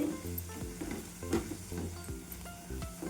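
Masala roasting in hot oil for a potato tiffin bhaji, a steady close sizzle and crackle broken by the rhythmic scrape of a spatula stirring, with no talking.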